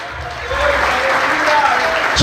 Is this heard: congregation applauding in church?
yes